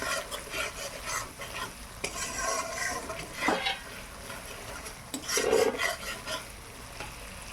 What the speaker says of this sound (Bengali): মশলা খুব ভালোভাবে ভাজা হয়ে গেছে